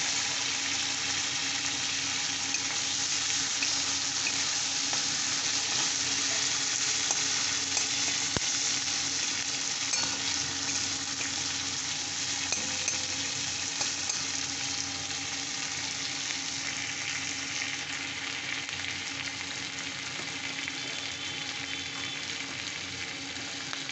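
A medium chopped onion fries in a pan with a steady, dense sizzle that holds evenly from start to finish, close and loud, with occasional faint stirring scrapes.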